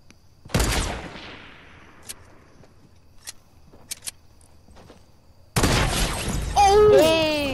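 Hunting rifle shots in a sniper shootout game: a loud crack with a long decaying tail, a few faint clicks, then another loud burst. A voice cuts in near the end.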